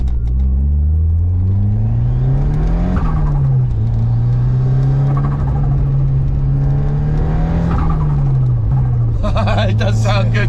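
A Ford Sierra Cosworth Rouse Sport 304R drives past with a loud, sustained engine note. It climbs in pitch, drops back on a shift, holds steady, then rises and dips again, with voices talking over parts of it.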